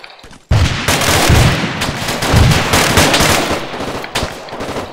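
Gunfire in the military shooter ARMA 3: loud, dense automatic bursts crackle without pause after a half-second lull, staying close and forceful before easing slightly at the end.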